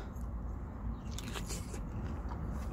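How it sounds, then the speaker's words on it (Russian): Teeth bite into a juicy TC Sun plum with a crisp skin and dense, meaty flesh. A couple of close, soft crunches and wet snaps rise over a low background hum. "шкурка хрустит, мякоть очень мясистая."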